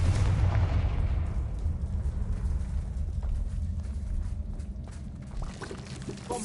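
Fiery spell blast in the video game Hogwarts Legacy, a dense low rumbling burst that rolls on for several seconds, fairly loud and fading slightly, with faint crackles above it.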